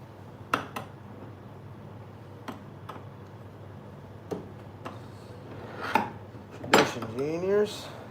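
Metal knife blades, marked along the sides and center and ready for grinding, clink and clatter sparsely as they are handled and spread out on a workbench, close and fairly quiet, ending with a short spoken phrase.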